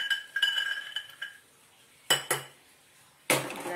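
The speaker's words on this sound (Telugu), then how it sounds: "ఈ విధంగా ఫ్రై అయినాక వీటిని తీసి ఇంకో గిన్నెలో" Fried ingredients for a tomato chutney are scraped and tipped from a pan into another bowl, giving a few sharp metallic clinks and clatters of utensils against cookware, close and distinct with pauses between.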